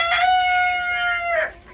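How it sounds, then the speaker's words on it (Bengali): A white rooster crows loudly nearby, one long drawn-out call that rises and then drops off at the end. "এই যে আমার সেই সাদা মোরগ"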